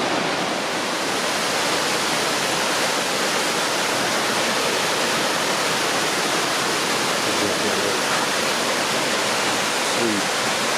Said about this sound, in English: beautiful waterfall right there